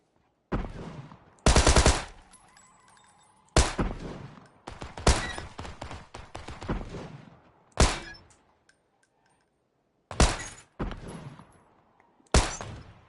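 Gunfire in the PUBG video game played on PS4 with keyboard and mouse: loud sharp bursts and single shots at irregular intervals, each with a ringing decay, and no talk over them.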